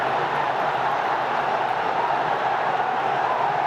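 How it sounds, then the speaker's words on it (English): A packed cricket stadium crowd at the BPL 2025 final between Fortune Barishal and Chittagong Kings sends up a steady, dense roar that holds at an even level throughout. "I don't know if our viewers can hear the crowd, but it's very noisy here."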